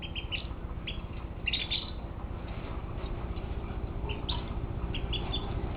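Birds outside chirp in short, scattered high calls, faint over a steady low hum of background noise.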